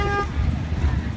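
A vehicle horn toots briefly at a touch-a-truck event at UMass Dartmouth, sounding at the start over outdoor crowd and engine rumble, with voices talking nearby.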